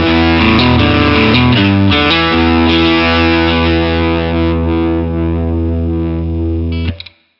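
Heavily overdriven electric guitar, bridge pickup, through a Mesa Boogie California Tweed tube amp: chords ring out loud and sustained, fading slowly before the sound cuts off abruptly near the end.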